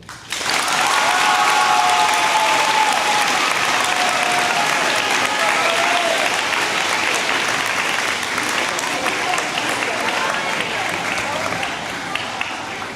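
Loud, sustained applause from a crowd at a middle school 8th grade moving-on ceremony, dense clapping holding steady for about twelve seconds with some cheering mixed in.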